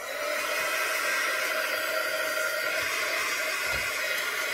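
A dryer blows on a freshly worked scrapbooking page, giving a steady, close, unbroken whooshing hiss with no talk over it.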